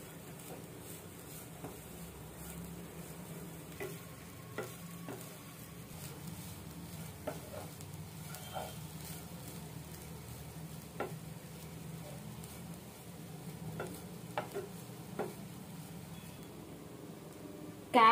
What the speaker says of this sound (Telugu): కొంచెం సేపు ఇలా వేగనివ్వాలి.